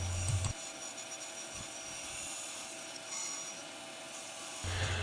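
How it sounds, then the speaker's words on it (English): A bandsaw cuts through 2x6 lumber for a crate, a steady continuous rasping buzz that runs for several seconds, close and alone, with a louder machine hum at the start and end. "I just cut it out on the bandsaw, getting as close to the line as possible without going over"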